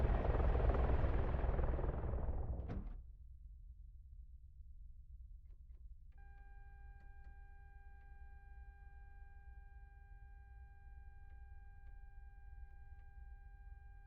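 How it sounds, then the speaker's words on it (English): Mi-24 Hind helicopter flying in a video game: a loud roar fades after a few seconds into a steady, distant low rotor drone, with faint electronic tones joining later. "I think I hear a hind."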